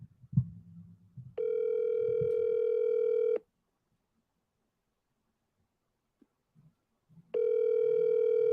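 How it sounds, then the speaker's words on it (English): A steady telephone ringback tone buzzes in two long bursts with a silent gap between them while an outgoing call to a wholesale real estate contact connects, clear and alone. "Let's see if we can get Elaine on the phone really quick."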